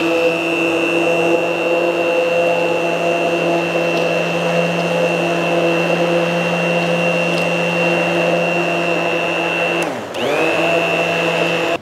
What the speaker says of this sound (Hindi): मशीन के साथ में एक ऐसा ग्राइंडर भी देगी कंपनी